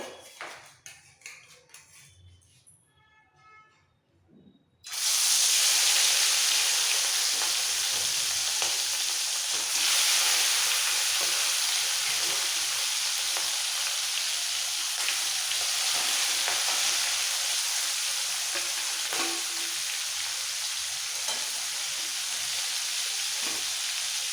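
Marinated prawns go into hot mustard oil: after a few quiet clinks and rustles, a sudden loud burst of sizzling frying erupts and continues as a steady, dense crackle close up.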